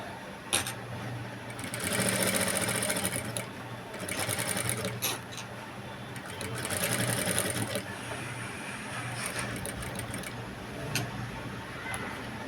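A sewing machine stitches along the edge of blouse cloth, running in loud rattling bursts that stop and restart, with quieter pauses and small ticks between runs.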